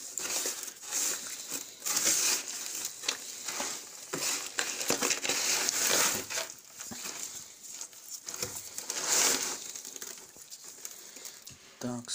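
Salt being rubbed by hand into the skin of a pike that is being prepared for smoking, heard as a close, continuous gritty scraping and crunching with uneven bursts of rubbing.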